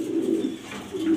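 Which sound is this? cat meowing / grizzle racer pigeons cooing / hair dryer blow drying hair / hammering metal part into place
grizzle racer pigeons cooing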